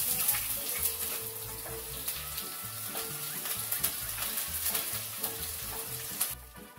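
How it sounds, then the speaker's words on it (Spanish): Green chilies fry in oil in a saucepan over medium heat, giving a dense, continuous crackling sizzle with scattered pops, close and fairly loud, stopping abruptly near the end. "Y primeramente vamos a sofreír los chiles."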